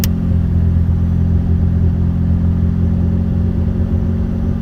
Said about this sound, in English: Now I'm going to turn the fan on, that OEM fan right now.